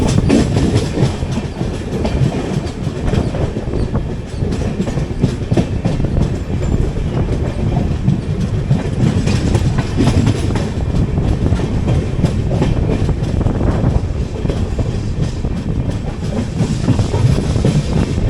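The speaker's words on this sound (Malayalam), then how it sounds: "നമ്മൾ ജസ്റ്റ് തുംകൂർ സ്റ്റേഷനിലേക്ക് പ്രവേശിക്കുന്നു." The Hubballi Kochuveli Weekly Express rolls into Tumkur station, heard from on board as a loud, continuous rumble with rhythmic wheel clatter over rail joints and occasional faint squeals.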